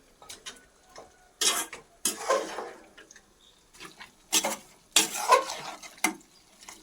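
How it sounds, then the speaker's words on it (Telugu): A spoon scrapes and clinks against a pan while stirring spicy Telangana mutton fry gravy, with irregular bursts of scraping separated by quiet gaps and no talk. "ఈ గ్రేవీ మళ్ళీ ఒకసారి మధ్యలో ఇలా కలుపుకున్నాం అనుకో అంటకుండా మంచిగా ఉంటుంది"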